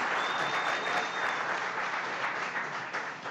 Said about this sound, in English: Give a big round of applause for Mike Calta.